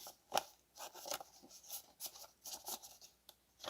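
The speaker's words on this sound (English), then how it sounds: "I will also cut out a second piece" Scissors snip through a piece of paper in a string of short, close crunching cuts with small pauses between them.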